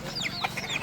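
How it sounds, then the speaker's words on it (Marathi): A chicken clucking nearby, a short run of quick, close calls in open outdoor air. "ए कोंबडी चावती काय"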